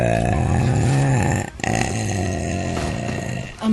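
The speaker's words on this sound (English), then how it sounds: "You don't like burping." A deep, drawn-out burp, loud and close, with a brief pause and a short low voiced sound at the end.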